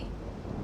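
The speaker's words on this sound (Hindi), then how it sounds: "कैलाश गरज रहा है महादेव" Thunder rumbles over the sacred mountain Kailash in a devotional drama, a short, dense, low roar with no speech over it.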